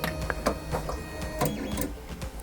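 Tronxy X1 3D printer with its axes being driven during assembly, the stepper motors whirring in short bursts with clicks and pauses, close and fairly loud.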